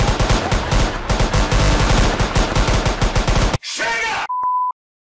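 Rapid bursts of gunfire in the game MIR4 rattle in quick succession, followed by a brief whoosh and an electronic beep.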